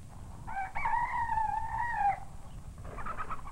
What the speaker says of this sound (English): The chickens are coming down from their roosts.